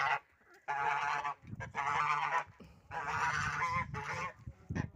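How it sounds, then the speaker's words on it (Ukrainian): Several geese honk loudly and insistently close by, their calls overlapping in a noisy, continuous chorus. "Зараз гусей випущу."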